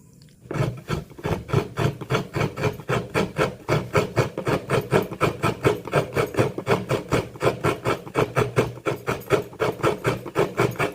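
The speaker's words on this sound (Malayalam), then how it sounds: "അപ്പോൾ ഒരു തേങ്ങനെ ഫുള്ളായിട്ട് ചിരവി എടുക്കാം" A whole coconut is grated by hand on a scraper for a Kerala-style cowpea and pumpkin erissery, giving steady, rhythmic rasping strokes, several per second, close and even, with no talk.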